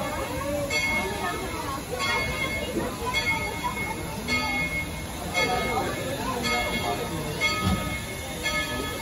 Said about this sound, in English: Riding the train with you today are the Quincy Cowboys and Cowgirls.